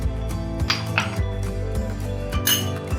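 A spoon repeatedly clinks against a metal bowl while turmeric is mixed into ingredients for egg shami burger, a sharp near tapping and scraping in an uneven rhythm, with no talking.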